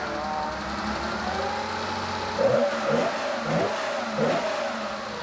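A 1969 Porsche 911T Karmann Coupe engine idles steadily and smoothly with a low rumble and no clicking, then gives several short revs that rise and drop back, close by.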